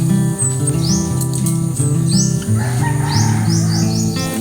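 Birds chirp and tweet in quick, repeated upward calls outdoors on a fresh morning, close and fairly loud over a dense, steady background hum.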